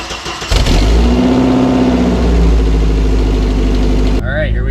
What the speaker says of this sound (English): it has so many exhaust leaks, so it's basically like an open header.